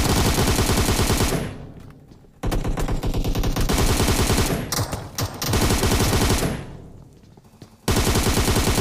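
Dense bursts of automatic gunfire from a battle royale video game, loud and continuous with brief lulls between volleys.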